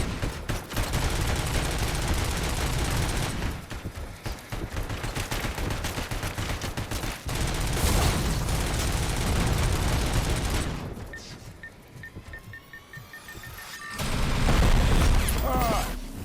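Explosions and gunfire from missile strikes in Robocop: Rogue City, loud dense bursts rumbling continuously for about ten seconds, a brief lull with mechanical tones, then another heavy blast.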